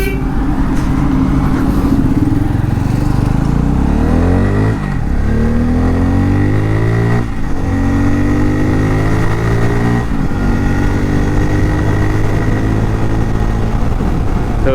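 A Bajaj Pulsar N250 motorcycle with about 5000 km on it revs close and loud, its engine note rising and falling in repeated throttle sweeps over a steady rumble, with no talk.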